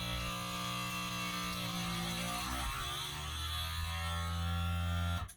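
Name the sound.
vacuum sealer sucking air out of a bag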